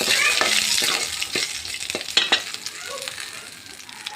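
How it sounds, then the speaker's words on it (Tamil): Whole cloves and cardamom pods sauté in hot oil in a pan for a Tamil jackfruit seed curry, giving a steady close sizzle broken by a few sharp scrapes and stirs, with no talk. "இதெல்லாம் போட்டு நல்லா வதக்கிட்டு"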